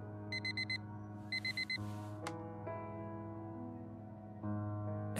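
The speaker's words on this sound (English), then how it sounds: "never wakes up from my alarm" Alarm clock ringing in the video game Fragments of Him, two quick bursts of rapid electronic beeps near and clear over a quiet humming backdrop, with no talk.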